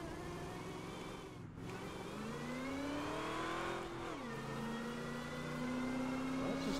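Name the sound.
car accelerating fast in the video game GTA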